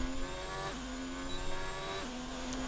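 Race car engine in a racing video game at Abu Dhabi, dropping pitch twice as it brakes hard into a corner, a steady mid-loud whine with no voices.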